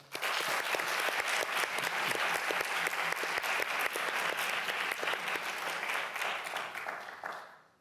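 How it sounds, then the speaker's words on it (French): Warm, sustained applause comes from an audience at a grand final evening event, loud and even throughout before dying away quickly at the close. "Merci de l'applaudir chaleureusement"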